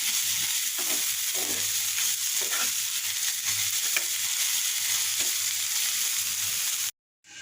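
Fresh leafy greens frying in a pan with a steady close sizzle and intermittent stirring scrapes, then an abrupt cut to silence near the end.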